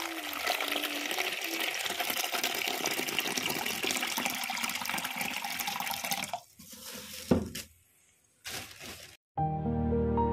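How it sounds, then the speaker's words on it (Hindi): Grapes and other fruit dropped into water for washing, with a steady running-tap rush that stops, followed by brief splashes and sloshing bursts near at hand. "इनको पानी में डालती हूँ मैं पहले"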